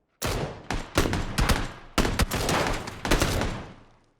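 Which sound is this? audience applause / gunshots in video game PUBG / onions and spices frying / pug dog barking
gunshots in video game PUBG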